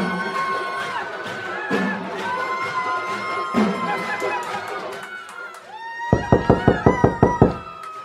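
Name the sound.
knocking on a door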